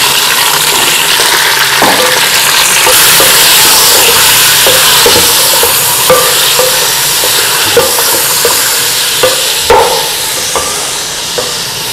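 Half a kilo of beef dropped into frying onions for masala beef biryani, a loud continuous sizzle with stirring scrapes and occasional clacks, no talking.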